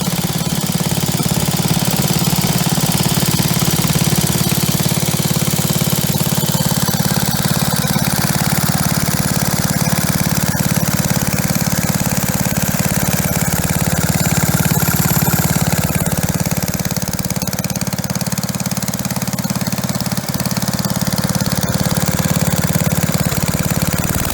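A restored BSA 420cc stationary engine runs steadily and loudly close by, with a rapid, rough knocking chug and a heavy low rumble that continue unbroken throughout.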